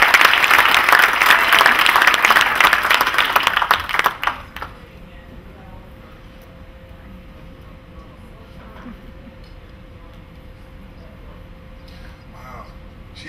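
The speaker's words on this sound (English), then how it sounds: "Give a round of applause for that." Loud, dense applause from a crowd fills the first four seconds, then cuts away to a quiet room with low background noise.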